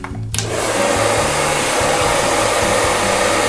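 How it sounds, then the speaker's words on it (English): A hair dryer switches on and blows with a loud, steady roar for several seconds, close by. "So I'll use the blow dryer."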